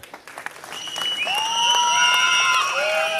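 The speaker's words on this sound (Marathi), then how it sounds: "टाळ्या वाजवा यांच्यासाठी" Audience applause at a felicitation ceremony on stage in Jat, a dense, steady clapping that builds and stays loud close by, with a few cheers and whistle-like tones rising above it.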